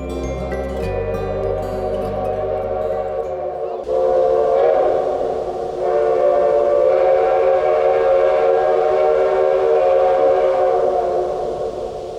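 A loud steam whistle from a 1920 Baldwin locomotive blows continuously, a rich, sustained multi-toned blast that swells partway through and holds for many seconds.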